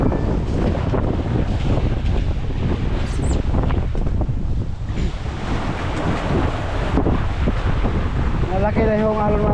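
Big Pacific Ocean waves crash and wind buffets the microphone around a boat at sea in December, a loud, continuous roar with a voice briefly heard underneath.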